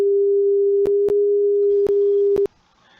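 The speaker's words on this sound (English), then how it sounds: "Example of sine wave with louder sound." A loud, steady pure sine tone holds unbroken for nearly two and a half seconds, cut by a few brief clicks, then stops abruptly into near silence.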